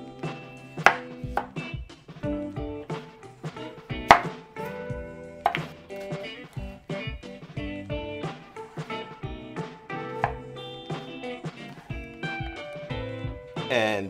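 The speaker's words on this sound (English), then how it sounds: "So we're gonna cut up some zucchini noodles." A knife chops zucchini on a cutting board into noodle strips, with rapid, irregular knock-like cuts that come close and loud, one after another, for the whole stretch.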